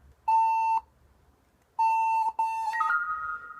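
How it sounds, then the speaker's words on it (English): A computer music beeper program sounds electronic beeps on key presses: two separate steady tones, then a run of stepped, rising beeps that ends in a held higher pitch. The beeps are loud, close and clean, with no voices. "It beeps every time you press something."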